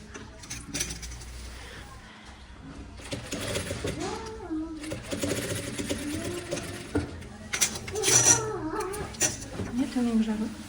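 A sewing machine stitches the bottom hem of a lined vest in short and longer runs, with a cat meowing nearby and light handling noises. No speech.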